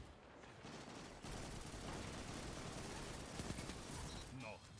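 Gunfire in Destiny 2, dense rapid shots and crackling bursts filling most of the stretch, loud and continuous, with a voice talking over it.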